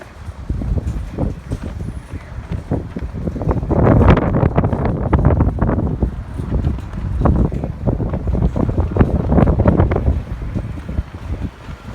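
Gusty outdoor wind pounding the microphone in loud, rumbling waves that swell and ease throughout, with no voices over it.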